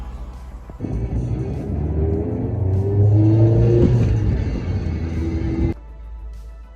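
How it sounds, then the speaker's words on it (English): A Ferrari sports car engine revs on the street, a deep throaty roar swelling and rising in pitch over several seconds before cutting off sharply, close and loud with no talking. "spotted a beautiful Ferrari. Look at this thing."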